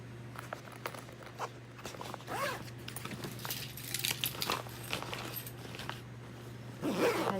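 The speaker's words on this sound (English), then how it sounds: "And zip that up" Pocket of a Ju-Ju-Be diaper bag being zipped closed, soft scratchy zipper pulls and light rustling of fabric and contents, quiet and close over a low steady hum.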